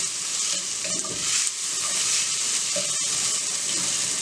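Onions sautéing with salt for vegetable noodles, a steady close sizzle with stirring scrapes and faint clinks running throughout, no voices.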